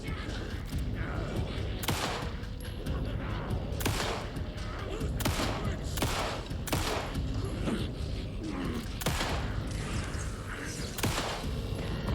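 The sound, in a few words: flashbang grenade explosion in the video game Alan Wake 2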